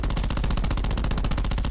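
Saug submachine gun firing full auto in Call of Duty Black Ops 4, a loud, fast, evenly spaced stream of shots running continuously without a break.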